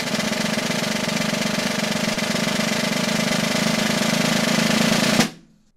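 A snare drum roll played with slight finger back pressure to make the strokes denser produces a continuous, even buzzing wash for about five seconds, loud and close, then stops abruptly.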